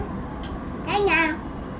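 A young child imitates a cat's meow with a short, high, wavering vocal cry, clear and close against a hum of background noise.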